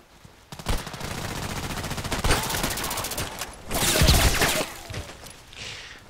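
Rapid automatic fire from an FN SCAR-L rifle in the shooter Contract Wars, loud close bursts rattling almost continuously with brief gaps between strings of shots.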